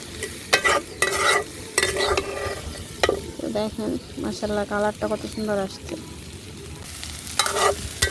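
Banana flower bhaji sizzles in a pan while being stirred, with rhythmic spatula scrapes and a steady frying hiss under someone speaking.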